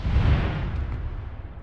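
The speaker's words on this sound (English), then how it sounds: "That was a rapid series of explosions." Explosions in a military video game roll out as a deep, rumbling boom that fades slowly over a second or so, loud and heavy in the low end.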